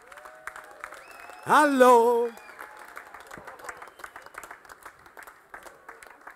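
Applause from a live comedy audience greeting a performer at a stage show, with a steady patter of clapping throughout and a loud spoken greeting over it early on.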